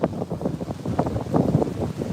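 Strong wind gusting on the beach at Playa del Carmen, Mexico, a loud buffeting rush against the microphone with uneven pulsing surges throughout.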